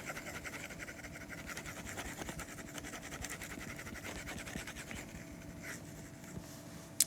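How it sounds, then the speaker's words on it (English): A marker or chalk scratches across a board in steady writing strokes, close and continuous with brief pauses, no voices. "Let me just write it out for you."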